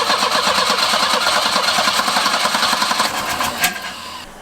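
A Volvo 245 engine cranks over on the starter in a rapid, rhythmic chug that is loud and close, then slows and cuts off without catching.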